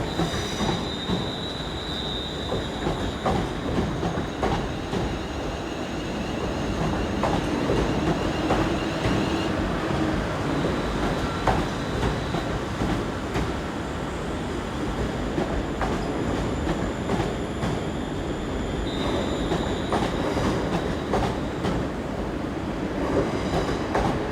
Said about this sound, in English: I realised that there's a Pendolino there.